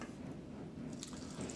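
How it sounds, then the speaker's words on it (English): Liquid pours into a bottle in a steady, soft trickle that stays faint and even throughout, with no voices over it. "we're gonna go ahead and pour this into our bottle."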